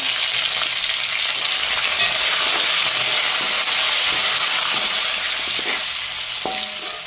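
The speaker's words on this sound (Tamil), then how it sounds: "பெத்தல் மிளகாய் போட்டு அதுக்கு பிறகு என்ன செய்வோம் கருவேப்பிலை போடுவோம்" Chilies and curry leaves fry in hot oil, a loud, close, steady sizzle with small pops and crackles and no talking.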